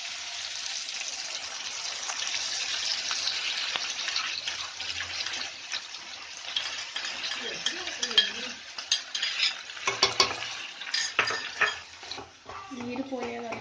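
Onion and green chili paste frying in a pan for chicken capsicum dum fry makes a steady, fairly faint hiss, with intermittent utensil scrapes and stirring growing busier toward the end.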